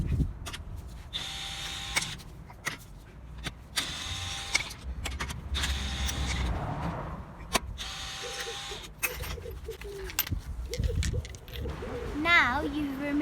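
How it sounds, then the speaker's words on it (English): Wheel nuts being removed from a raised 2015 Honda Civic during a brake pad replacement, with sharp intermittent clicks and bursts of tool noise, a stretch of whirring mechanism, and a person talking throughout. "Now I'm going to remove the wheel nuts."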